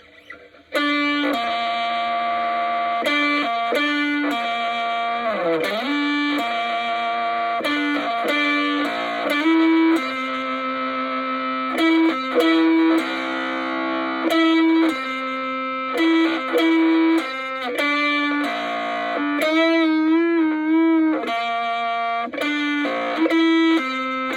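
Blonde Ibanez bass played through a tiny battery-powered amp with every knob maxed, giving a heavily distorted, buzzy riff with long sustained notes and slides, loud and continuous for over twenty seconds with no talking.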